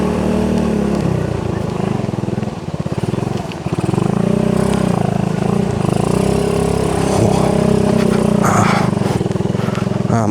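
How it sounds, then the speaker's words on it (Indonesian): Suzuki Smash motorcycle climbing a steep, badly broken uphill road, its small engine droning loud and steady with a brief dip in the middle, with some talk over it. "Motor smash saya ini memang didesain untuk tanjakan."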